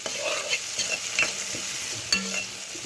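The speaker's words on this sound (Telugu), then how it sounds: "ఇలా ఒక్కసారి వేయించేసుకోవాలి" Fresh curry leaves and cooked pieces frying in a pan, giving a continuous close sizzle with repeated scraping and stirring strokes of a spatula and an occasional sharp knock against the pan, no voices.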